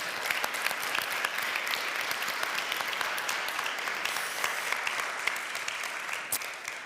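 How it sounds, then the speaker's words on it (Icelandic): Steady applause from a church congregation during a Sunday service, clapping for a soloist who has just sung; even and continuous, moderately distant, with no talk over it. "Það gefur mér gott klapp."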